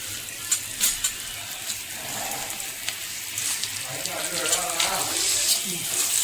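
Dry red chillies frying in oil in a pan for mango ginger pickle, a steady soft sizzle with brief stirring clatter, close by and continuous.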